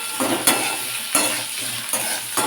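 Potatoes frying in a pan with no tempering spices are stirred, giving steady sizzling broken by four sharp scraping strokes of a utensil at regular intervals, with no voices.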